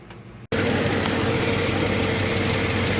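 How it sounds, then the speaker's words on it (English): Vehicle engine cranking and firing up after the battery is reconnected, a sudden loud catch that settles into a steady, rough, close running rumble with knocking vibration. "we're going to be starting this vehicle up"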